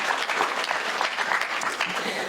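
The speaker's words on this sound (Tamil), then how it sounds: "நல்லாவே கைத்தட்டலாம், தப்பு கிடையாது." An audience at a comic Tamil debate show (pattimandram) claps in a thick, continuous burst, close and fairly loud, with a murmur of voices underneath.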